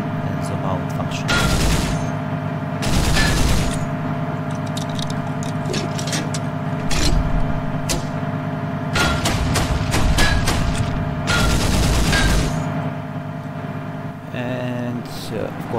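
Rapid bursts from the coaxial machine gun of an LAV Jackal armored vehicle in a video game, several loud firing bursts over a steady engine drone.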